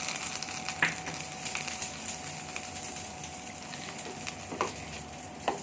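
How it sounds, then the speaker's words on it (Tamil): Mustard seeds and curry leaves sizzle in hot oil while being tempered for a Chettinad kadamba chutney, giving a steady, soft hiss broken by a few faint crackles. "1 டீஸ்பூன் அளவுக்கு கடுகு, கருவேப்பிலை தாளித்து சேர்த்துக்கலாம்"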